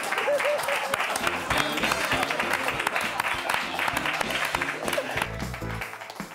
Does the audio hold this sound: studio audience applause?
yes